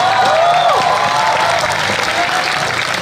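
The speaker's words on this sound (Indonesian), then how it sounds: "Iya, tepuk tangan." Studio audience at a comedy talk show giving loud, steady applause, a dense wash of clapping with faint crowd noise lasting throughout.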